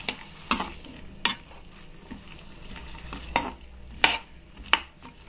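Chana dal and bottle gourd are stirred in a pan with a spatula, giving a series of sharp scraping clacks over a soft, continuous sizzle, close and fairly quiet.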